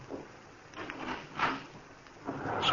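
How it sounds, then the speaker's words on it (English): A door in a hall opens as a radio drama sound effect, heard as a few soft, muffled wooden knocks and rattles against a faint background hiss. "Somebody came in the door in the hall."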